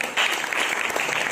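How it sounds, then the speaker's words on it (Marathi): A crowd of school students claps loudly together, a dense, steady burst of applause that swells sharply after a brief moment and carries on evenly to the end. "जोरदार टाळ्या वाजवा."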